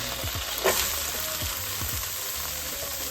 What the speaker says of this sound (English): now I want to add some diced onion into this pot